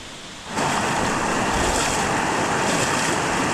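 Strong river current rushes loudly and close after a brief quieter start, a dense, steady roar of water at a riverside that continues unbroken with no voices.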